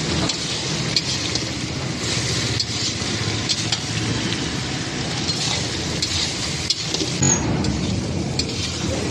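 Spices with salt and turmeric frying in a pan, a steady close sizzle and crackle with scraping stirring sounds running throughout, no voices.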